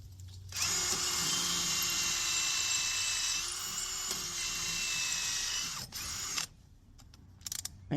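A power drill whirs continuously, driving screws into a dryer vent cover, a loud close mechanical whine for about six seconds that drops off, followed by a few short clicks and rattles.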